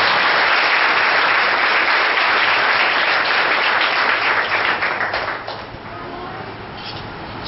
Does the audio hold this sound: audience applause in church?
yes